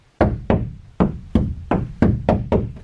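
Eight firm knocks on a bathtub floor newly braced underneath with a stud and foam, landing in a steady, evenly spaced rhythm, each one short, solid and close with a quick thud and no bounce.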